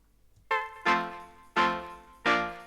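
Sample from a reggae tune: four bright, harmonically rich tonal stabs spaced about a beat apart, each swelling and decaying, heard alone and fairly quiet.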